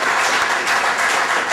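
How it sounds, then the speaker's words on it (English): Brief burst of dense, steady clapping from a library audience at a poetry reading, filling the whole moment without talk. "Let's give them a great round of applause"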